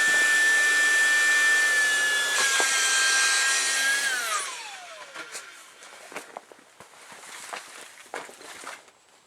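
A vacuum sucks the air out of a compression bag with a loud, steady whine. After about four seconds the motor cuts off and its pitch winds down, followed by soft rustling and knocks.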